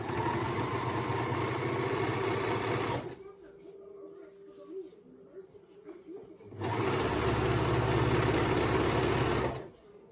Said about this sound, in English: I have used my overlocker to do so